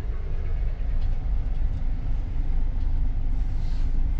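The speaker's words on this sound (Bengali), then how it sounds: "তার মধ্যে হচ্ছে এই ট্রেনটি একটি 12321 মুম্বাই মেল" Steady low rumble of the 12321 Mumbai Mail train running, a continuous rolling rail drone heard from onboard with no speech.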